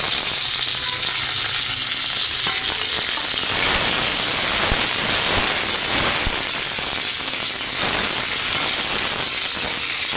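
Cumin, mustard seeds, lentils, four dried red chillies and curry leaves fry in hot oil on a stove, a loud steady close sizzle with crackles and pops that grow busier midway.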